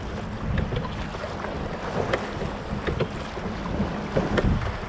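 A Cornish rowing gig is rowed through a narrow gap at sea off Ramsey Island, with rhythmic splashes of oars and water sloshing against the hull under steady wind buffeting the microphone.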